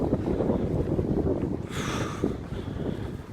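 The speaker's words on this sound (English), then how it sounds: "A lot of wind, yeah, not as bad as Sunday though." Strong wind gusts buffet the microphone outdoors, producing a loud, continuous low rumble with a brief hissy surge in the middle.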